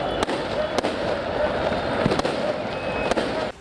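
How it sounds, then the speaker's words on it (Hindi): Fireworks burst at a nighttime football victory celebration in Lisbon, a few sharp bangs cutting through a loud, constant roar of crowd and street noise. "जीत का डंका पीटने के लिए उन्होंने इतनी आतिशबाजी की कि रात के अंधेरे में आसमान जगमगा गया"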